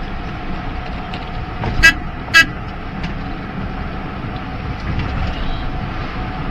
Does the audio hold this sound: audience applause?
no